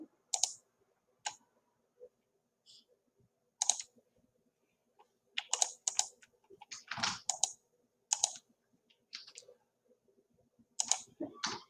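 Quiet, sharp mouse clicks sound in modelling software, some single and some in quick pairs and bursts, spaced irregularly with near-silence between them.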